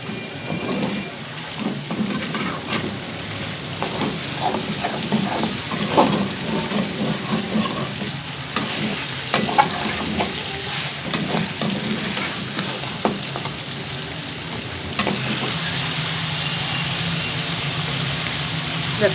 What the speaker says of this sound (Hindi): 1 चम्मच लहसुन अदरक का पेस्ट, इसको भी भून ले।